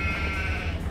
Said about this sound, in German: was seid ihr eigentlich so laut, ihr Schafe?